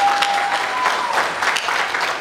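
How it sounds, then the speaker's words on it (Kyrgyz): A crowd at a village song festival in Kyrgyzstan claps warmly, a dense round of applause from many hands that stays strong and even throughout, with a brief tonal whistle early on. "Ушуларга бир кол чаап койсоңор"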